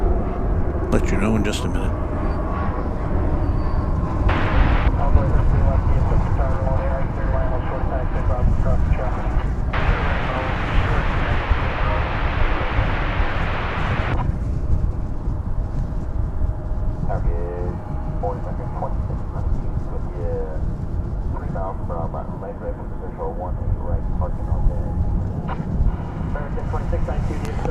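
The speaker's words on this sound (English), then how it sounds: "We've got an Embraer 170 arriving now" An Embraer 170 airliner arrives at DFW Airport, heard as a loud, steady jet roar with a broad surge in the middle, while someone talks over it and radio chatter is heard.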